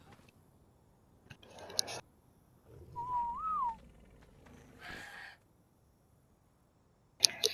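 A short rising-and-falling whistle, the neutral whistle command in Ark: Scorched Earth, sounds once alone amid faint ambient game noise and brief rustling bursts.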